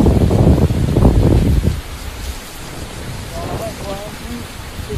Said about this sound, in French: Là, il pleut des bazars.